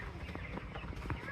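Chickens on a poultry farm cluck and call in a busy, steady background, with a person talking over the birds.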